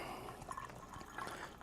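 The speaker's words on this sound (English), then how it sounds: "I'm gonna fill 1 cup from my kettle" Water from a kettle poured slowly into a cup, a steady close trickle and splash that stays faint and continuous for a brief moment.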